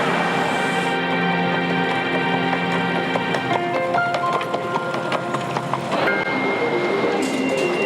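A New York subway train rumbles and screeches along the tracks, loud and continuous, with metallic whines and squeals shifting in pitch as it moves.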